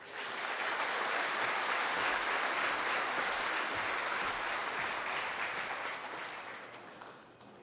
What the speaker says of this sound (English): please give Mr. Tolle another round of applause